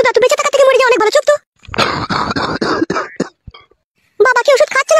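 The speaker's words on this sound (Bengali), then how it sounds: "বাবার কাশিটা আবার বাড়ছে দিন দিন।" A father coughing in a run of harsh, rapid bursts at close range, with people talking just before and after the fit.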